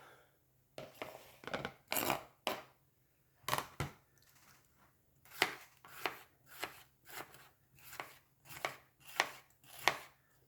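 Long sweet peppers being chopped with a sharp knife on a board, a dozen or so crisp, close knocks in an uneven rhythm with quiet pauses between, no talk.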